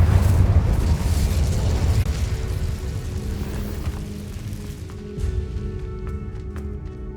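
In Hogwarts Legacy, an Incendio fire spell is cast, giving a loud, rumbling whoosh of flame that fades into a crackling tail under ambient game tones.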